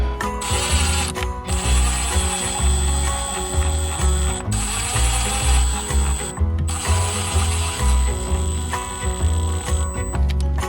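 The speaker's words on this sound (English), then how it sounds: "Grabbed a manual screwdriver so I don't accidentally strip these screws out." A manual screwdriver with a ratcheting handle backs screws out of a STIHL FS110 trimmer housing, loud close clicking in repeated rhythmic bursts separated by short pauses, with no talking.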